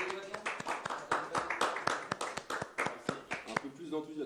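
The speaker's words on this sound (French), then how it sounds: "Moi j'applaudis quand même." A small audience gives sparse, uneven clapping at a group event, distinct individual claps in a loose rhythm, with people chatting underneath.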